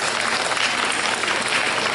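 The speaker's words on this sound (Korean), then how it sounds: "큰 박수로 환영해 주십시오." Sustained applause from a school audience welcoming a newly appointed vice principal, a dense, steady wash of clapping at close range throughout, with no talk over it.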